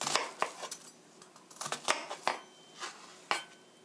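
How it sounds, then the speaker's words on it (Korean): A knife cuts raw chicken into pieces for a curry stir-fry, giving a series of irregular sharp taps and clicks against the board with quiet gaps between them and no talking. "이렇게 자르시고요. 뒷부분 자르시고요."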